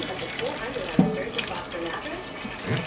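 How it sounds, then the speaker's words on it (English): Warm water runs from a tap for a fluffy AussieDoodle puppy's first bath, a steady splashing wash with a small knock, while a person talks over it. "just using a little warm water"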